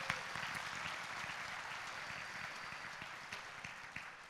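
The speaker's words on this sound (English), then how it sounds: "Let's give them a round of applause, please." Faint, distant audience applause at a city State of the City event, steady clapping throughout at low level.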